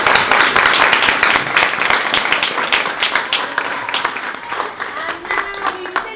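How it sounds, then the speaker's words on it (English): Audience applause for a Year 3 school string ensemble's music sharing session, a dense burst of many hands clapping that thins out toward the end. "Let's give them a big clap."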